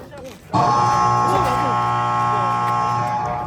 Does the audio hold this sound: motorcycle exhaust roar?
no